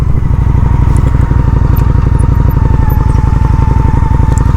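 Honda Shadow 750 motorcycle engine on a ride, a steady close-up rumble with fast regular pulsing and wind noise, loud and unbroken with no voices.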